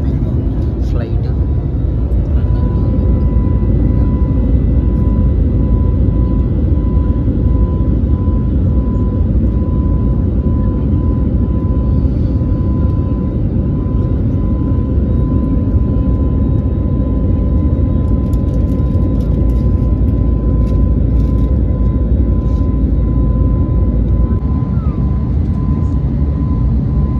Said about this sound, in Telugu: సక్సెస్ఫుల్గా అయితే టేక్ ఆఫ్ అయిపోయింది ఫ్లైట్